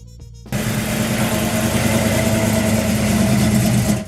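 A 1970 Mercury Cyclone Spoiler muscle car with a 429 Super Cobra Jet V8 idles loud and close, a deep, steady rumble that starts abruptly after a short quiet moment and holds evenly to the end.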